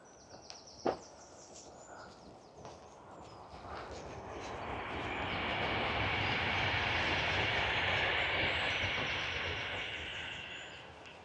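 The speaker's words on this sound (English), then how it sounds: "Train going by." A train passes beside a canal towpath, its broad rumble swelling from a distance over several seconds, then holding loud and steady at close range with no one talking.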